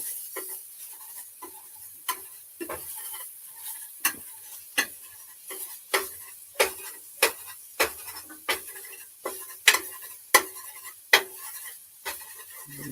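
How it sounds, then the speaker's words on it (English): A spoon scrapes and clicks against a pot while stirring cheese sauce with habanero Rotel for nachos, about a dozen sharp, evenly spaced knocks over a soft bubbling sizzle. "Keep stirring this up."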